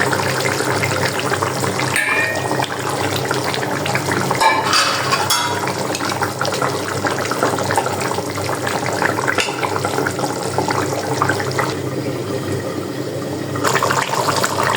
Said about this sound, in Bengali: এই যে তরকারিটা বলক চলে আসছে, এখন আমি মাছগুলো দিয়ে দিব